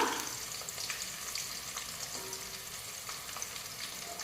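Spices and ingredients frying in a pan before onions go in, a soft continuous sizzle with light crackles and occasional stirring scrapes, fairly faint and close, no speech.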